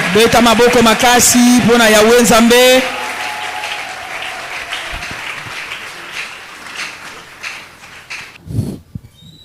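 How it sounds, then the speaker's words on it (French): A church congregation at a Sunday service erupts in loud applause and shouted acclamation, with voices crying out over the clapping before the noise fades into a quieter murmur. "tu acclames très fort pour la gloire du Seigneur. Acclame très fort pour le Seigneur."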